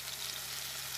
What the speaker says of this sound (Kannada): ಒಂದೊಂದಾಗಿ ಈಗ ಫ್ರೈಗೆ ಹಾಕುವ ಸಮಯ.